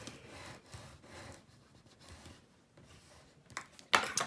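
A tool is rubbed firmly over glued paper on a handmade gift box, giving soft, repeated scraping strokes close by, then a sharper rustle at the end.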